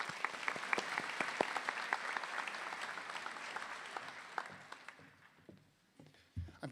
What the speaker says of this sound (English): One more round of applause for English education.